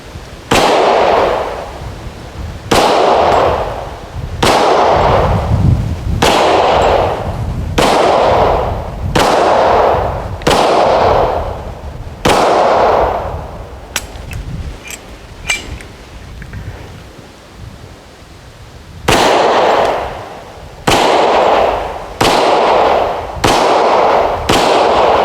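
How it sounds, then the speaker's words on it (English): An Iberia Firearms .40 S&W pistol fires its first shots outdoors, loud sharp reports at a fairly even pace, two strings of about six and four shots separated by a pause with faint metallic handling clicks. "So I'm going to go ahead and take shots."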